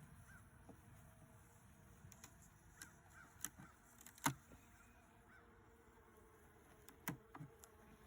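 Honeybees in a hive box, being fed no-cook sugar bricks, give a faint, continuous buzz close by, with a few scattered light knocks and clicks and no talking.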